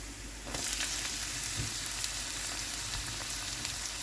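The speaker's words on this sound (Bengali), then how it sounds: "এবার পেঁয়াজটাকে আমি হালকা একটু ভেজে নেব" Chopped onions fry in a pan for a taro curry, giving a steady, close sizzle that grows slightly louder after the first half second and continues evenly, with no talk.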